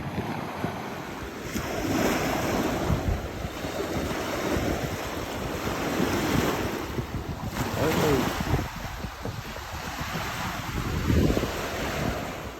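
Gusty wind buffets the microphone while waves wash and lap along the windy east shore of Heart Lake, Yellowstone, a continuous rushing roar that swells and eases.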